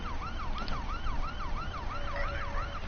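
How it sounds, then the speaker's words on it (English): Ambulance siren from the video game Watch Dogs 2, a plain wailing tone that sweeps up and down in a steady, repeating cycle, loud and continuous with no talking. "it just has the normal siren"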